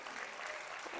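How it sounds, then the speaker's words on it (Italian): At an Italian school guidance event, an audience claps in a brief burst of dense, even applause lasting about a second. "Potete applaudire, vale anche dal vivo."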